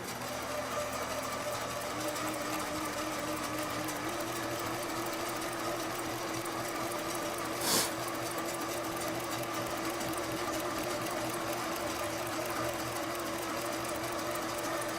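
A sewing machine quilts basted fabric for a cat bed on a long-arm setup, running steadily and continuously near at hand with a brief sharp click partway through.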